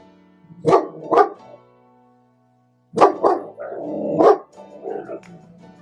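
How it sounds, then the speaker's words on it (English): A puppy barks nearby: two sharp yaps, a pause of over a second, then a cluster of several more barks and whiny yelps, loud and alone without talk. "Who you barking at, puppy?"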